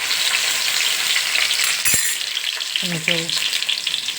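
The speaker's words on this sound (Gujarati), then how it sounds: "જીરું થોડુંક તતડી જાય ત્યાં સુધી રહેવા દેવાનું છે." Cumin seeds crackle in hot oil in a pan for jeera rice, a steady close sizzle with one sharp snap partway through and a brief word spoken over it.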